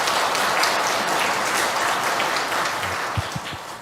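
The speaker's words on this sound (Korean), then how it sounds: "박수로 맞아주시기 바랍니다." An audience at a Catholic Advent lecture welcomes a sculptor with warm clapping, a full steady wash of applause that thins toward the end, with a few low thumps near the close.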